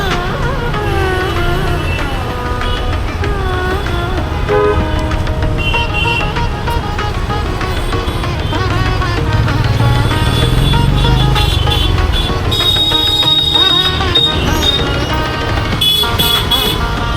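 Traffic noise near Siddhivinayak temple in Dadar, Mumbai, with car horns honking repeatedly over a steady, loud engine rumble, mixed with other street sounds and faint voices.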